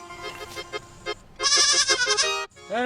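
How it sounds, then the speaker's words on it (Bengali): Two goats nearby give repeated bleats, first a stuttering series of shorter calls, then a long, loud, quavering bleat and a brief rising cry at the end. "ওখানে তো দুটোই ছাগল আছে"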